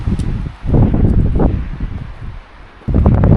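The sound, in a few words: wind blowing through trees on a mountain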